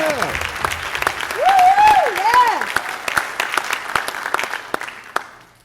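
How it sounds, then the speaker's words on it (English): Applause from a commencement audience for an adult graduating class, a steady clatter of many hands that fades out over several seconds, with a voice speaking briefly over the clapping. "I want to give you all a huge round of applause to getting to where you are."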